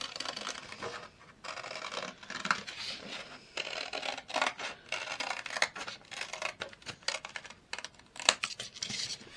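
Scissors snip through a paper design for a DIY Halloween decorative plate, giving a close, irregular run of crisp cuts and rustles with no talking.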